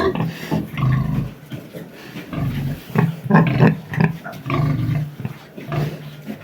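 Pigs, including young sows, weaners and piglets, grunt and squeal in a busy, close chorus, with repeated rough snorts and short bursts of noise throughout.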